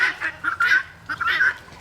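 Several turkeys call nearby in repeated honking, squawking bursts, two clusters of calls separated by a short pause, loud and without talk.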